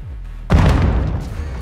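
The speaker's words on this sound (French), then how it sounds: "Grenade!" A grenade blows up in the Modern Warfare 2 campaign: a sudden close, heavy boom that rolls and rumbles for about a second before tailing off.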